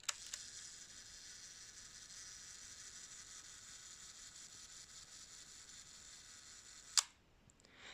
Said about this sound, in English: So hearing that click means that you have taken a photo of a selfie.